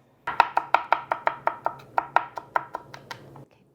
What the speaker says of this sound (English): finely, finely chop that garlic